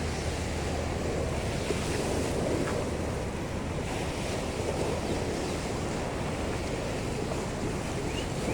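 Fast-flowing Krishna river in flood at Vijayawada, water rushing just below a railway bridge, a continuous loud roar with wind buffeting, no voices.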